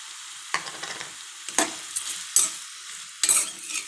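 Brinjal curry frying in a pan, heard as a quiet sizzle broken by four bursts of spatula stirring and scraping against the pan, close and clear with no speech.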